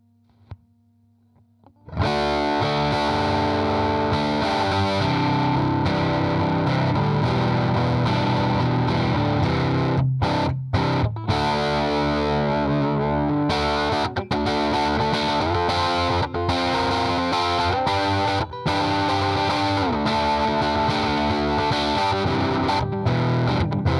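Heavily distorted electric guitar through a tube overdrive pedal at maximum gain, amp master volume full, plays loud sustained chords and riffs, thick saturated overdrive after a quiet start, with brief cut-offs between phrases.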